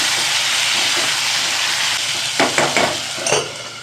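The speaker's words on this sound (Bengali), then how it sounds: "ঢাকনা দিয়ে দিয়ে একটু ভাজা ভাজা করবো" Vegetables with green chilli, salt and turmeric fry in oil for a bitter Bengali curry. A dense, close sizzle hisses steadily, then a few scraping stirs break through toward the end.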